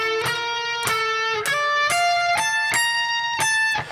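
Electric guitar playing a solo lick, eight clear picked notes in a steady rhythm, each ringing with bright harmonics and climbing gradually in pitch, alone and close.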